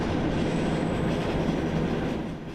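A Swiss cog railway train on a steep gradient, the rack section limited to about 40 km/h, rumbles steadily along the track, a dense, continuous rolling roar with faint wheel clatter and no voices.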